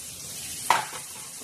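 Moong dal stirred and sautéed in a pan with coriander leaves, a soft steady sizzle under one brief utensil scrape near the middle.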